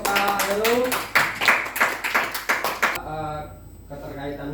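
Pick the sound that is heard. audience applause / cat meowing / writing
audience applause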